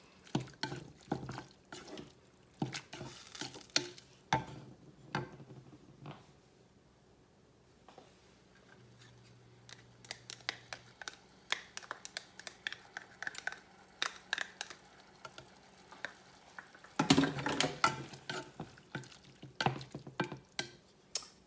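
Vinegar dressing being mixed in a bowl, with irregular clinks and wet stirring scrapes in bursts, a quiet pause midway, then another busy round of stirring, close and fairly soft, with no talk.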